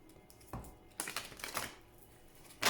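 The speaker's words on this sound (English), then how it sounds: "Please think of your question as I shuffle the cards." Oracle cards shuffled by hand, heard as a few short, close riffling and slapping bursts with quiet pauses between them and no talking.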